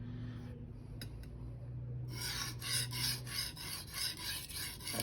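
A Shirogami #1 steel bunka knife is sharpened on a Rika 5000 whetstone, making quiet, rhythmic rasping strokes. The back-and-forth scraping starts after a brief hush and repeats at an even pace.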